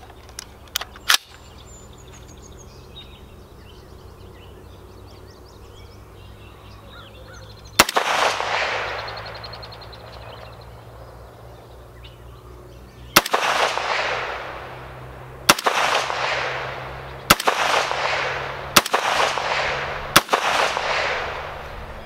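An AR-15 chambered in 300 Blackout fires six loud, sharp shots outdoors, each followed by a rolling echo. The shots come in quick succession after a few faint clicks of handling.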